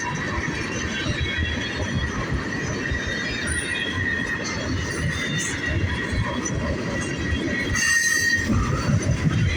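A long Buffalo and Pittsburgh freight train rolls past near Punxsutawney, Pennsylvania, with a steady close rumble of wheels and cars and a sustained high metallic wheel squeal running over it.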